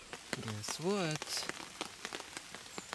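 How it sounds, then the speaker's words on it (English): Rain patters steadily on a surface by a river throughout, with a brief tonal whine and scattered sharp drops over a quiet, broadband hiss. "Yes, again, rain."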